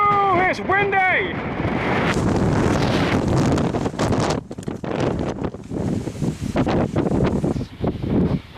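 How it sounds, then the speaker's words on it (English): Strong wind roars and buffets against the microphone at High Cup Nick, a glacial valley, loud and gusting throughout, with a voice speaking briefly near the start. "Whoa, it's windy!"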